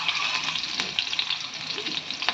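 Garlic and curry leaves fry in two ladles of hot oil in a pan, a steady close sizzle with small pops and crackles running throughout, no voices.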